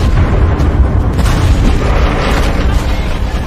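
Two military vehicles hit a mine in a war film, a loud, continuous rumbling blast with deep booming low end and crackling debris, close and sustained throughout.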